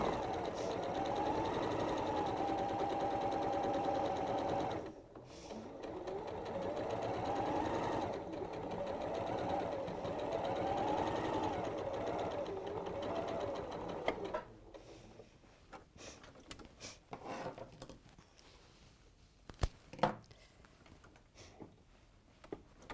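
A domestic sewing machine stitches quilt pieces with a leader-follower, a steady rapid whirring hum for about fourteen seconds with brief pauses, followed by short bursts, clicks and handling noises.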